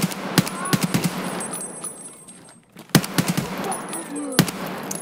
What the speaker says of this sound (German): Welch wunderbare Schüsse